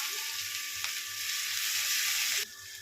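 Onion sautéing in hot oil in a wok, a steady bright sizzle of frying that holds evenly for a couple of seconds before cutting off abruptly near the end.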